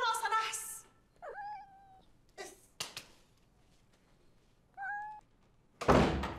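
A black street cat meows twice in rising, drawn-out cries, separated by soft thumps and knocks, with a louder burst of noise at the end.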